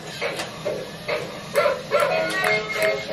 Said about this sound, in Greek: Ο Αλέξανδρος πήρε αυτό εδώ πέρα το ρομποτάκι σκυλάκι.